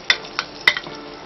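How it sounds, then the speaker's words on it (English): Onion cooking in a pot is stirred with a utensil, making a few light clinks and scrapes against the pot over a soft simmering background. "Stir the onion for it to get hot and boil."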